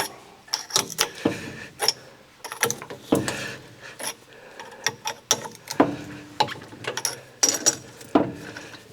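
A clamp mechanism being tightened on a large rock-cutting saw: repeated close ratcheting, clanking metal clicks in an uneven rhythm, fairly loud and alone.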